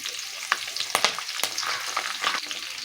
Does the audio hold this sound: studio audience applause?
no